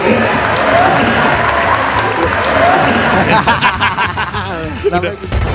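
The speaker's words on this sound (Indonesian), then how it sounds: "Tepuk tangan sekali lagi untuk Ganjar Pranowo dong teman-teman." An audience at an Indonesian political talk event applauds Ganjar Pranowo. Close, full clapping mixes with chuckles and crowd murmur, then thins into scattered claps.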